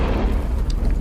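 A dense, rumbling blast from a boss's exploding mist attack in the video game Lords of the Fallen, loud and sustained with heavy low-end roar throughout the short burst.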